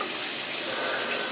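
Tap water runs steadily into a sink as a paint brush is rinsed clean, a continuous close hiss of flowing water with no talk.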